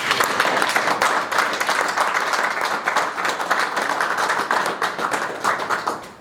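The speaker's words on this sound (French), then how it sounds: "Applaudissons." Dense, steady applause from the audience at a UDPS political meeting on democracy in the DRC, loud and close, filling the whole stretch without letting up.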